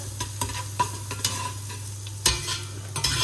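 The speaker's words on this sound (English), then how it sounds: "Let that brown off a little bit." Beef cheeks brown in a pan with a continuous close sizzle and a low steady hum beneath it, broken by a few sharp scrapes and stirring knocks, one louder near the end, with no voices.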